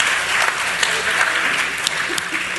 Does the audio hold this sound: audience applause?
yes